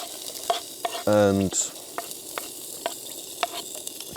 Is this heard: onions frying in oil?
yes